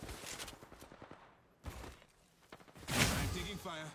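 Bursts of gunfire crackle in a ranked match of a video game shooter, fairly faint and mixed with a player's talking, with a louder burst of shots near the end.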